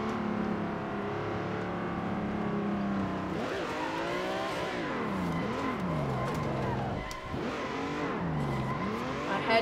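A car drifting in the racing game Assetto Corsa: a continuous engine drone that repeatedly revs up and falls in pitch, with swooping changes as the car slides through corners.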